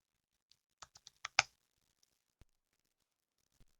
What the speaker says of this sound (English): I'm the worst at typing